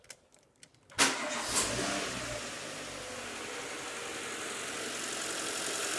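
A 2006 Renault Clio engine cranks and catches after a few faint clicks, then settles into a steady, close idle that runs on without talk.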